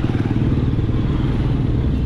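A 2023 Honda X-ADV 750 touring motorcycle on the move gives a continuous, close engine rumble with a low pulsing throb throughout the short stretch, with no talking over it.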